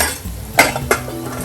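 A spoon scraping and clinking against a metal pot as turmeric and red chili powder are mixed into food for South Indian spicy rice dumplings, two distinct clinks over soft stirring, close and alone.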